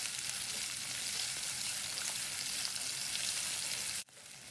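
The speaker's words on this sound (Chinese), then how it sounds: "紅辣椒、辣椒乾全部一起過油。 繼續以中小火慢慢炸香。" Red chilies and dried chilies frying slowly in oil over medium-low heat make a steady, even sizzle that cuts off abruptly near the end, with no talking.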